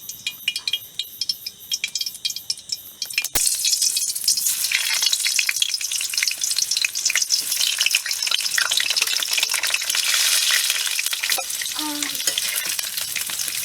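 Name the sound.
potatoes frying in oil in a wok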